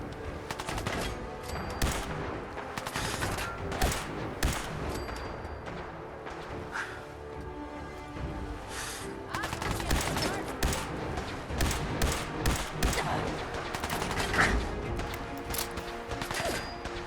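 Gunfire in the video game Fallout 4: a continuous, dense barrage of rapid shots and bursts, loud and close, with mechanical clanks mixed in and no pauses.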